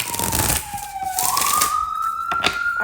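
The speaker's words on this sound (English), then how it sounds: "I swear I could never have a reading without these damn sirens going off." Sirens wail outside, their rising and falling tones sweeping up and down over a few seconds at moderate distance, with some background clatter.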